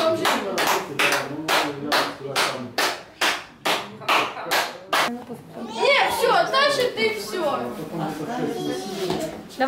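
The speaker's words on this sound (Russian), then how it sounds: "Она только что сидела и так же хлопала." A child claps hands in a steady run of about a dozen sharp, close claps over the first five seconds, then the clapping stops as several voices talk and laugh at a birthday gathering.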